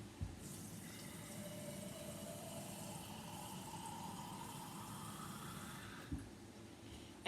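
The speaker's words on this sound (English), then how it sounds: "I'm going to pour the water in here" Water is poured from a jar into a pan of cooked sausage, a faint, steady trickling fill whose pitch slowly rises, heard alone in a quiet kitchen.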